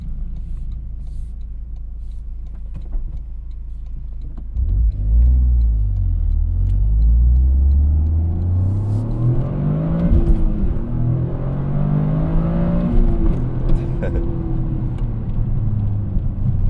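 A Toyota GR Corolla engine revs hard during a night drive, heard from inside the cabin as low rumble rising sharply through repeated climbing pitch sweeps as the car accelerates through the gears, loud and close.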